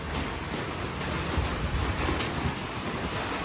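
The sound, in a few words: strong typhoon wind in Baguio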